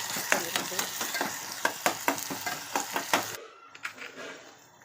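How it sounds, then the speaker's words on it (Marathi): Masala paste with whole garam masala spices frying in a pan, a close crackling sizzle broken by regular spatula scrapes and taps, dropping abruptly to a quieter sizzle near the end. "त्याच्यामध्ये बघू शकता छान फ्राय होत आहे."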